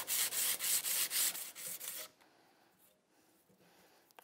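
240-grit sandpaper wrapped on a file rubs in quick back-and-forth strokes over a Colt-style revolver grip frame fitted to a Ruger Single Action, about eight close, rhythmic rasping passes, then near quiet with faint handling noise.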